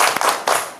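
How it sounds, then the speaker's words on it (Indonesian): Two short bursts of hand clapping in a classroom, quick and fairly loud, as a group of pupils is applauded; the sound is brief and close. "Tepuk tangan untuk kelompok A"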